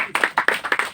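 Audience hands clapping at a farewell ceremony, about six sharp, close claps in a quick uneven run.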